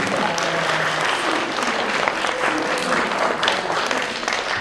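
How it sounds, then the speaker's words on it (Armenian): An audience at a school farewell ceremony for first graders claps in a dense, loud, sustained round, with a faint murmur of voices mixed in. "ծափահարում, հա"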